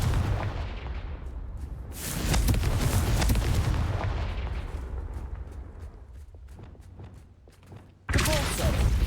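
A Confringo fire spell blast in Hogwarts Legacy: a dense, roaring burst with a heavy low-end boom that swells and holds, then fades into crackling, followed by a second sharp blast near the end.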